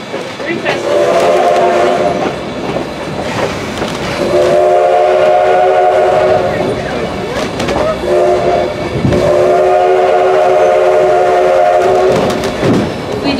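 Black Hills Central Railroad's 1880 Train, a steam excursion train running toward Keystone, sounds repeated long whistle blasts over the loud, continuous rumble and clatter of the moving cars, close and dominant throughout.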